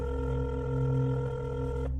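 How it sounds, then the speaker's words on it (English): An electronic phone ring tone plays on a steady, even pitch close by, sustained and unbroken before cutting off abruptly near the end, with no voices over it. "he could hear Deborah's phone ringing upstairs."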